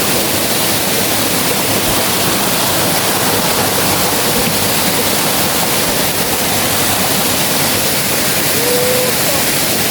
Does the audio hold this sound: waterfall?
yes